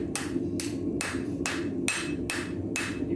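A hammer strikes a knife blade on an anvil in an apprentice blacksmith's shop, seven evenly spaced, ringing metallic blows close by over a low background hum, with no talking.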